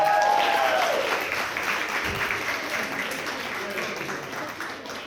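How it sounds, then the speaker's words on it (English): A wedding reception crowd applauds after a speech, the clapping starting loud and gradually tapering off, with a brief tonal sound early on and faint voices in the room. "let's give Frank a big round of applause"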